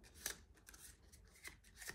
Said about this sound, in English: So now I would shuffle